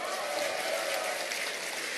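Dense, steady applause from a seminar audience, a continuous crackle of many hands clapping at even loudness throughout, with no voices standing out.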